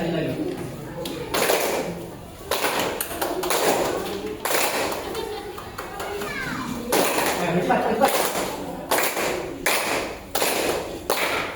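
People clap their hands in bursts during a school game, sharp irregular claps arriving in clusters between stretches of children's chatter and an adult voice talking over them.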